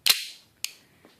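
A modded airsoft pistol fires two sharp, snappy shots about half a second apart, each a crisp crack with a short hissing decay, followed by a fainter click; close and alone.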